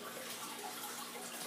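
Water running steadily into a 90-gallon freshwater aquarium during a water change, a soft continuous hiss and splash from a tap or hose, even and unbroken with no voices.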